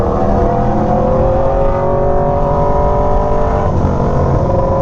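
Aprilia Tuono V4 motorcycle engine while riding in Los Angeles traffic, a loud, steady, throaty V4 drone with harmonic tones and a slight dip and change in revs near the end.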